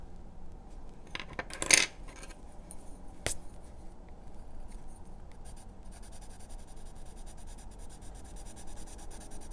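Soft, steady scratchy rubbing of a colored pencil across paper, close up, with a brief louder clatter near the start and no speech.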